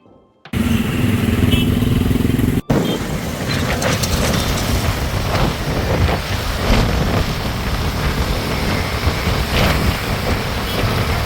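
A motorcycle ride on a Gujarati family's trip, with a loud, steady engine drone and wind rush close to the rider that begins abruptly and carries on unbroken to the end.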